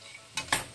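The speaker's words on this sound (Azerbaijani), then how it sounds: "Qarışdırırıq." Dried plums, apricots and raisins are stirred into pumpkin pilaf in a pan, giving two short scraping, sizzling strokes close up against a quiet background with no talking.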